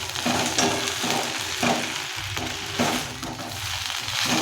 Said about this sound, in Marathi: आता मी सर्व मसाले व्यवस्थित मिक्स केलेले आहेत आणि आता ही भेंडी आहे ना ती अशीच शिजवून घेणार आहे